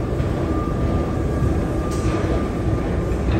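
Steady, loud rumble of a train at an elevated station above a shopping mall in Kista, Stockholm, a dense continuous roar with a faint high whine and no talk.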